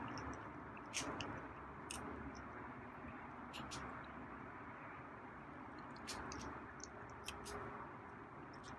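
A feral animal crunches and gnaws on a bone out on a deck, faint sharp cracks and chewing bites recurring irregularly over a low steady background rumble.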